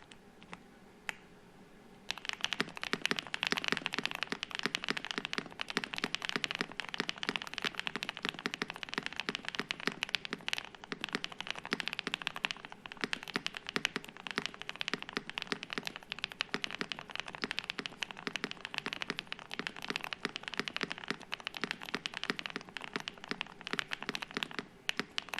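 Typing on a Diamond Avalon 60 keyboard: after a few isolated clicks, a fast, continuous patter of keystrokes runs for over twenty seconds. The keys are close and sound crisp, and there is no talk.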